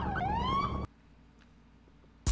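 Police car siren from the Midnight Club: Street Racing video game, a loud rising wail lasting under a second, then near silence with a brief burst at the end.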